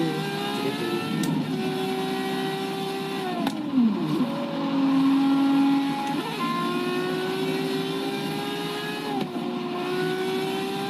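A Ferrari 599XX racing in Forza Horizon 3 on a Hot Wheels track, its engine revving high and steady, dropping sharply on downshifts for corners and climbing again, with tyre squeal mixed in.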